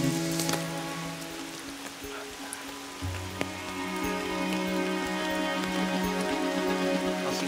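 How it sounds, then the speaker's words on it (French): Rain falling steadily outdoors, a continuous close hiss of drops pattering on surfaces, joined by a few sharp individual drip taps and a low background hum, with no one speaking. "on va attendre que la pluie soit passée"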